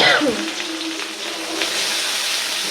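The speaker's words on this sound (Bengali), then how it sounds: "এই তেলের ভিতরে পেস্ট দিয়ে দিতেছি" A brief splash-like burst, then a steady close sizzle of spice paste frying in hot oil.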